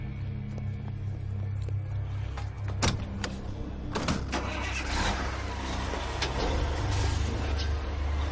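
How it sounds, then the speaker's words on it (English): A diesel truck running on cooking oil drives along with a steady low engine rumble and road drone, a few brief knocks and clatters rising over the continuous noise. "this truck and any other diesel-powered vehicle can stay on the road."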